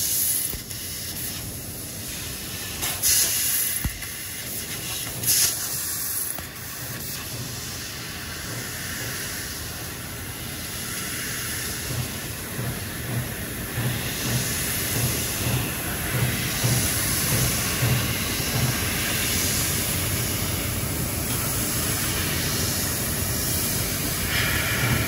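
A 2008 Amada LC3015F NT 4000-watt CNC laser cutting machine slices small 12 gauge steel brackets, giving a continuous loud hiss and rush of assist gas with occasional brief clicks and bursts in a busy shop, with no talking.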